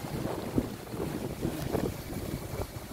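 Strong monsoon wind gusts on a seaside baywalk on Talim Island, Binangonan, Rizal, rumble and buffet against the microphone in uneven, low blasts, with no other sound standing out.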